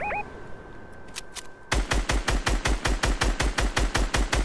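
Rapid automatic gunfire in a battle royale video game, a fast steady burst of loud close shots starting after a couple of seconds of quieter game ambience with a few faint tones.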